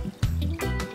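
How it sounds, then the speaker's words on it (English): Yogurt mixture poured into a cooked masala in a pan for Rajasthani gatta curry, a brief close pour with thick liquid splashing and trickling in two short bursts. "Now I'm going to add in yogurt mixture to the masala."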